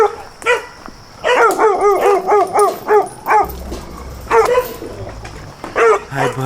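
An emaciated pit bull chained outside barks repeatedly and loudly at close range, sharp barks coming in quick bursts with brief pauses and a few whimpering yips between.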